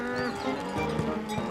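Cattle on a farm moo close by, several overlapping low bellows in quick succession, loud and alone with no talking.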